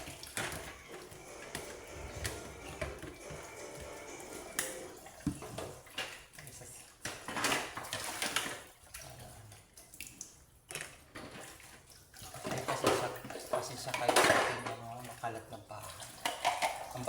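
Dishes, pots and cutlery being washed in a kitchen sink, with running tap water, clinks and scraping of utensils coming in irregular bursts while someone talks.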